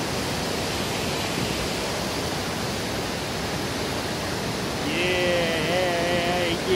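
Steady roar of a 60-meter waterfall at Inglis Falls fills the scene, a broad constant rush, with a faint high tone joining near the end.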